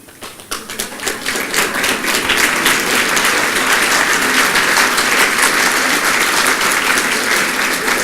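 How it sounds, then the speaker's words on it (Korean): Sustained applause from a large audience welcoming the Rev Sun Myung Moon at the Norway main event of his 2011 European tour, starting with scattered claps and swelling into steady, dense clapping that continues throughout. "힘든 시간이 박수로 환영해 주길 바라겠어요"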